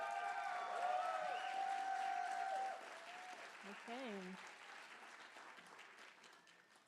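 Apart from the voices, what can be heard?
audience applause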